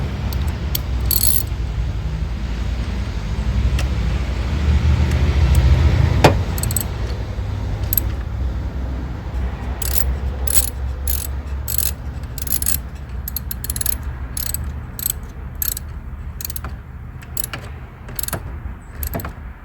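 A ratchet tightens the battery terminal on a 2015 Chevy Suburban with a steady run of sharp, close metallic clicks, preceded by rustling and clinking of tools.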